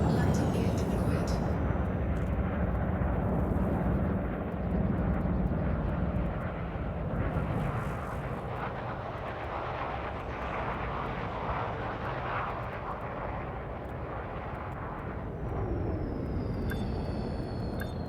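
Spaceship landing and docking in Elite Dangerous, a steady loud engine roar and rumble that eases slightly midway, with a voice speaking over it.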